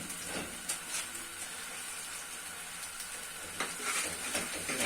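A paratha fries in desi ghee in a Pakistani village kitchen, giving a steady soft sizzle with occasional louder bursts of spitting, close and without talk.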